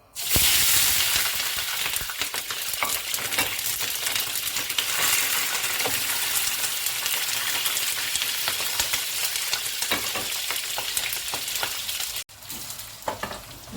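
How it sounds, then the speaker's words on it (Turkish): Peppers fry loudly in hot oil, a continuous close crackling sizzle that drops off abruptly near the end. "Şimdi uzun uzun doğramış olduğumuz biberlerimizi de kızgın yağımıza alalım."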